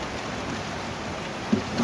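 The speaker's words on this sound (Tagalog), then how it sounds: "Umuulan pa ng konti." Steady rain hisses evenly throughout, with a couple of soft thuds near the end.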